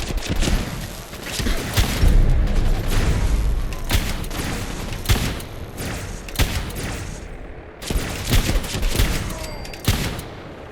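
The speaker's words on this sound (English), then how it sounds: "I hear gunfire." Gunfire in the video game Fallout 4, with repeated bursts of shots and booming impacts in irregular clusters, loud and close, alone without talk.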